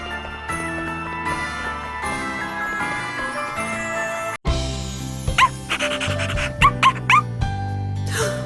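A dog whimpering and yipping in the Nintendo Switch video game Bravely Default II, with small high whines and yelps over continuous game music. The music changes partway through the clip.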